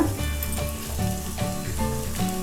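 Finely chopped onion sautéing on a stovetop, a steady close sizzle and crackle of frying with faint stirring scrapes and a low background hum.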